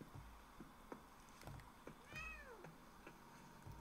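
A cat meows in the video game The Medium, one clear rising-falling meow in the middle over a quiet, low ambient game background.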